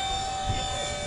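A large model F-16 jet with twin ducted fan impellers gives a high, steady whine over a low rumble, like a small jet running up nearby.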